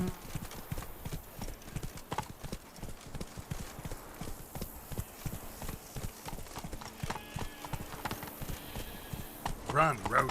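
Hooves of the horse Roach galloping in The Witcher 3 video game, a fast continuous clip-clop rhythm throughout, with a brief whinny near the end and faint game voices underneath.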